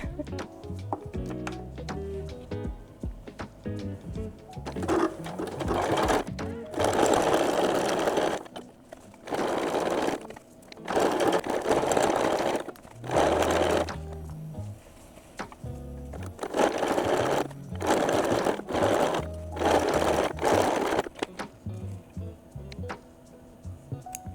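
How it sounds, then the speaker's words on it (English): A sewing machine stitching a hem on a pair of jeans, with repeated bursts of rapid mechanical whirring and ticking, close and clear, broken by short pauses between runs. "let's start sewing"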